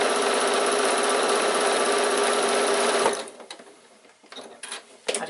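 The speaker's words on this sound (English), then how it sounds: "I'm just going to do it 1 row stitches right down the middle, just so that it keeps the wadding in place" A sewing machine runs steadily, sewing a single row of stitches down the middle of a quilted baby bag to hold the wadding in place. A close, continuous mechanical whir lasts about three seconds, then stops, leaving quiet handling clicks.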